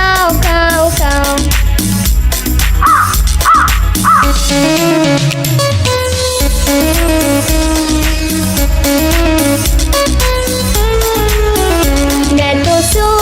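A crow caws as part of a Hindi nursery rhyme for toddlers: a few short repeated caw calls sit inside bright, busy children's music, and a singing voice imitates the cawing.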